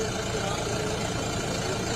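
A tractor engine runs at a steady idle at an outdoor farming festival, a continuous loud rumble throughout with faint voices in the background.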